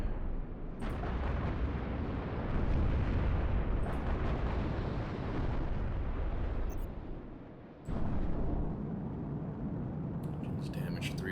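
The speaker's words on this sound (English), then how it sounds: "Let's see if the missiles do anything with this piece of shit." Missile explosions in the Halo Reach video game, heavy booming blasts rolling almost continuously with a brief dip before another loud burst, close and dense, with someone talking quietly over them.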